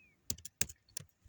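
Quick, crisp keystrokes on a computer keyboard while typing HTML code, a handful of close clicks in an irregular rhythm with quiet gaps between them.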